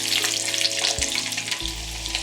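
Garlic frying in hot sesame oil with mustard seeds, a bright continuous sizzle with fine crackling pops, close and steady, with a couple of low thumps from the pan.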